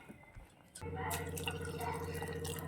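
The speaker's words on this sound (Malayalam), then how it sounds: "ഇതിൻ്റെ കൂടെ ഇനി കുറച്ചും കൂടെ വെള്ളം ചേർക്കണം" Water is poured into a lentil mixture during cooking, a steady close trickle beginning after a short quiet moment and running on.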